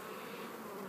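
Honey bees hum in a continuous, moderately faint drone while crowding over queen cells in a hive during queen rearing.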